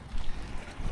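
Low rumbling water and wind buffeting around a small fishing boat, steady and close, with no voices.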